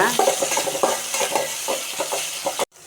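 Shallots, fennel and ginger-garlic paste frying in a pan are stirred in quick, rhythmic scraping strokes over a steady sizzle, close and fairly loud, before the sound cuts off abruptly.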